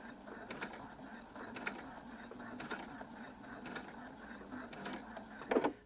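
A sewing machine stitches slowly in the ditch along bias binding where two fabrics join, giving short irregular bursts of clicking and whirring, fairly quiet and close, with a louder rattle near the end.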